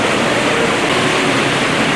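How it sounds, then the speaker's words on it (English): Steady, loud rushing roar of a waterfall inside an aquarium habitat, a dense unbroken wash of falling water with no pauses. "got a really nice waterfall"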